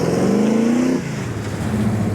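A 1970 Chevy Blazer engine revs hard and climbs in pitch as the truck accelerates, then drops after an apparent gear change and settles into a steady, loud mid-range drone close by.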